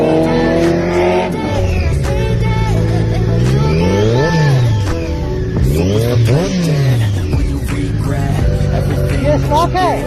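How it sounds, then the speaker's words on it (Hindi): Stock BMW S 1000 RR sport motorcycle revving hard nearby, its engine pitch sweeping up and down in repeated throttle blips with a harsh, loud, continuous roar and no talk over it. "BMW 1000 RR भाई साहब।"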